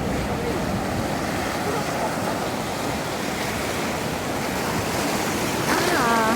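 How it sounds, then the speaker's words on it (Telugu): Sea waves break on the shore at Kanyakumari beach at sunrise, a loud, continuous rushing surge mixed with wind, with faint crowd voices in the background. "అసలు ఈ అలలు మమ్మల్ని తడిపేస్తున్నాయి అసలు."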